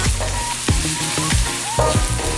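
Onion and pork carnitas sizzle and fry steadily in a hot pan, with a continuous crackling hiss broken by a few sharper pops and stirring scrapes, close and fairly loud with no talking.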